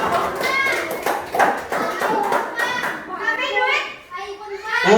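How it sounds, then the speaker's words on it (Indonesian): Elementary schoolchildren in a sixth-grade classroom clap together for the winning quiz group, bursts of close, loud handclaps mixed with excited children's voices and chatter. "Tepuk tangan untuk kelompok 3."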